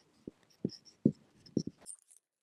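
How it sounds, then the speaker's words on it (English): A pen scratches out handwritten numbers on paper, a few short close strokes with small pauses between them in a quiet room. "Give me a moment to write down the important values."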